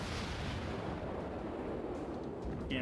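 Warship gun salvo in World of Warships, with the heavy gunfire of the cruiser Chikuma as a loud, sustained rumbling blast with a dense roar and no talk.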